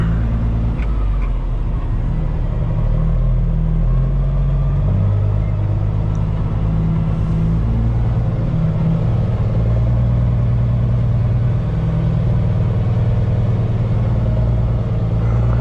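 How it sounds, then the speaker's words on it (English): A semi truck's diesel engine runs steadily and loudly as the rig pulls out of a truck stop, with a deep low rumble that holds throughout and no voices over it. "we're gonna roll out of the truck stop here"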